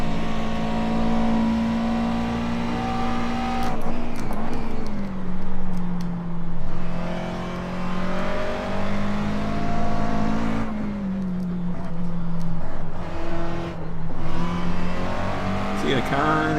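A McLaren race car in iRacing accelerates hard around Sebring, its engine holding a loud, steady drone that dips and climbs with gear changes and throttle lifts, with faint tire scrub underneath and no talking.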